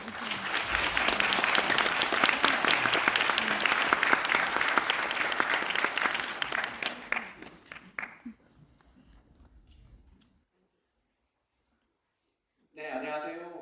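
An audience at a lecture hall in Bucheon City Hall breaks into loud, dense applause that holds steady for about seven seconds, then thins into scattered claps and stops, followed by silence and then a voice speaking.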